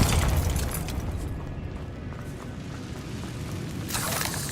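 Bombarda spell blast in Hogwarts Legacy: a loud booming burst at the start, decaying into a rumbling wash, with a second crackling surge near the end.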